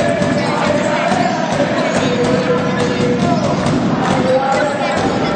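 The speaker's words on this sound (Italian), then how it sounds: "Esce Piacentini dal campo, applausi di tutto il palazzetto, ottima partita" Basketball arena crowd applauding a departing player during an Italian league game, Viterbo against Rieti: a loud, steady roar of clapping and cheering filling the hall, with voices mixed into the din.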